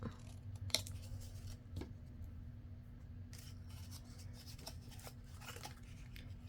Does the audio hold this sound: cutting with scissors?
yes